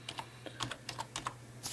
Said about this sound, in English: By the way, you just type in